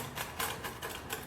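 A homemade Italian pizza is cut with a pizza cutter or scissors, giving a series of crisp crunching bursts in an uneven rhythm, close up and moderately quiet, with no one talking.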